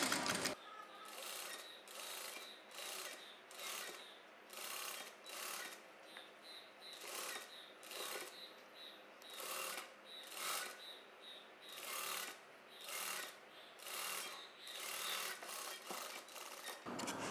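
A sewing machine runs in repeated short bursts while stitching a puff sleeve onto a blouse, its quiet mechanical whirring and needle clatter starting and stopping rhythmically, close and alone.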